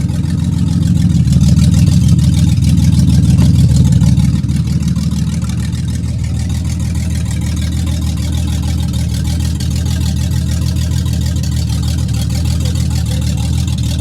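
A 1991 Mercury Cougar engine bought from a salvage auction runs loudly and steadily close by, with a heavier rumble in the first few seconds that settles into an even idle, and no voices.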